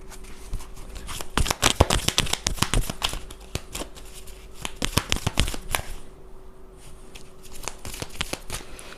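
Tarot cards are shuffled by hand in quick bursts of crisp riffling flutters and slaps, close up and fairly loud, with short pauses between runs and no talking.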